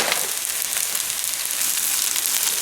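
Rice and cheese pan-frying, a steady bright hiss of sizzling from close by, continuous and even with no talking over it.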